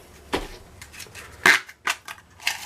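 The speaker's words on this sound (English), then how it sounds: "I got my snap gun" A lock pick snap gun fires in a handful of sharp, close metallic snaps, spaced irregularly over a couple of seconds.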